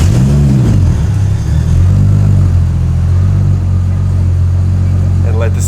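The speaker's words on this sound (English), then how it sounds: "Check out my fancy new cold start." Nissan Skyline R34 GTT engine cold-starting after a build, a loud close idle with rough low rumble and a brief rev near the start, steady and dominant throughout.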